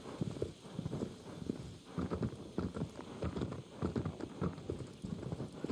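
Hooves of a horse in Shadow of the Colossus clip-clopping at a brisk, steady gallop, close and fairly loud, with each beat repeating regularly throughout and no talk over it.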